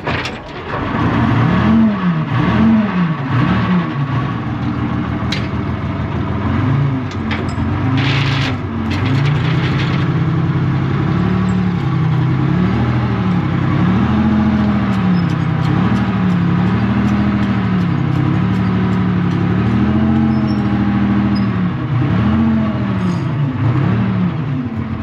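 A tank hearse engine turns over and settles into a loud, close running note, with the pitch swelling and dipping in repeated revs and a rough mechanical roar throughout.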